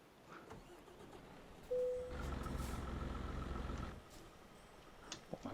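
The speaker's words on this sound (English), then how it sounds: "Maybe take the parking brake off." A truck's parking brake releases in Euro Truck Simulator 2, giving a sharp pneumatic hiss followed by about two seconds of steady, low engine rumble and air noise that then fades, set in a snowy winter driving scene.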